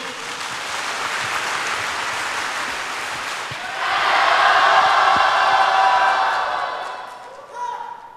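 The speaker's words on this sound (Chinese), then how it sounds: "让我们 掌声欢迎" An audience at a 2016 stage performance welcomes a youth group with applause. Scattered clapping swells into full, loud clapping partway through, then tapers off, with a voice speaking over the early part.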